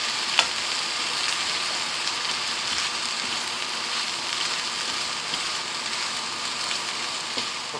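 Steady broadband sizzle of vegetables frying in a pan with seasoning mix, a continuous close hiss with faint stirring scrapes and one small clink near the start, no talking.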